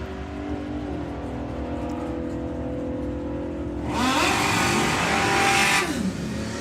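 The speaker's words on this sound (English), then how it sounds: "The Purple Express pickup going first, and then that little dragster going to go second." Drag racing launch of a pickup truck and a small dragster: steady engine idle gives way to a loud, sustained roar and high revving as both vehicles accelerate hard down the strip, fading slightly at the end.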